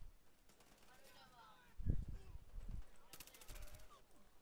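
Gunfire in Battlefield Hardline, a heavy thump followed by a rapid burst of automatic fire, fairly quiet beneath a player's voice.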